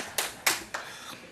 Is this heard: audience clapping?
yes